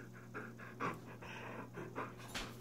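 A dog pants rapidly and rhythmically close by, with faint whimpers mixed into the breathing and a steady low hum underneath.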